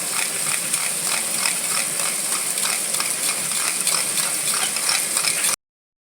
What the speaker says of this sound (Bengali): আমি এতে অল্প একটু নুন দিয়ে দইটাকে ফেটিয়ে দিচ্ছি এইভাবে ভালো করে ফেটিয়ে দেবো